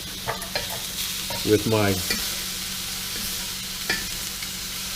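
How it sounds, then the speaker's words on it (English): Meat sizzles on a griddle while a filleting knife cuts it into fajita-sized pieces, giving a steady frying hiss with a few clacks and scrapes and brief murmured words. "Cut it right up into fajita sized pieces"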